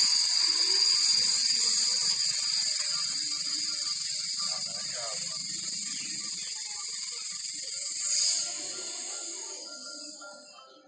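Drone propellers spinning at full throttle inside a vacuum chamber as air is let in, a steady high-pitched whine and buzz that holds for about eight seconds, then drops away and fades.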